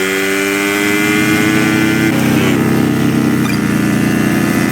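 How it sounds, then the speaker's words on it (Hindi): A steady engine drone with a rising, revving whine midway, loud and continuous, a motorcycle engine starting in the audio game Cyclepath. "अब यहाँ कहीं भी एंटर करेंगे तो हमारी बाइक चालू हो जाएगी"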